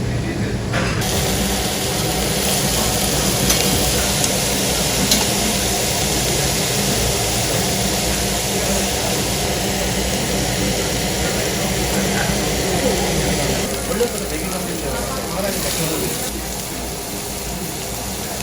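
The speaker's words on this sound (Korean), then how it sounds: "이 지글지글 소리만 들어도 정말 배가 더 고파져요" Pork neck, pork belly and pork skin sizzle on a charcoal grill in a dense, steady hiss and crackle that fills the whole stretch, loud and close.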